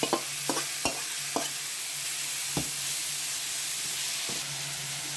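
Steady oily sizzle of yam frying in a pan, with a few sharp scrapes and taps of a utensil stirring.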